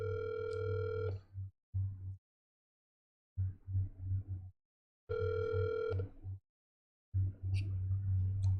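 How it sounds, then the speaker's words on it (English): A telephone ringing on an incoming call: three rings in a steady pulsed pattern, each about two seconds long and broken into rapid bursts, with silent gaps between them and no voices. "why the fuck you call me on the phone?"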